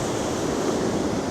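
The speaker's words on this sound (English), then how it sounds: "Because I think these are getting bigger, these waves." Sea waves break on a UK fishing shore in a continuous, close, rushing wash of surf, with no voices over it.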